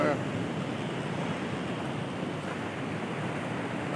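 Strong sea waves break at Nasugbu, Batangas, a dense unbroken roar of surf mixed with wind buffeting the microphone, loud and constant throughout.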